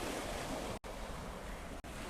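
Waves wash against the coast in a steady, broad surf roar, unbroken apart from two brief dropouts, with no voices.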